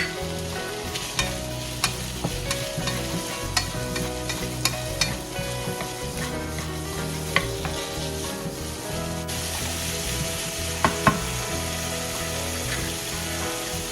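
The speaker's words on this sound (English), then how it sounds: "Add the tuna cubes and brown it for a couple of minutes," Fresh tuna cubes brown in a hot pan, turned frequently, with a loud, continuous sizzle and periodic sharp clacks of a utensil against the pan.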